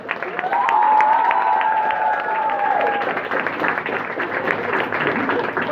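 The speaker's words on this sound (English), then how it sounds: "So a big applaud from all the poor people" An audience applauding at a volunteers' gathering, a dense sustained round of clapping from a crowd, loud and steady, with a voice and cheering mixed in.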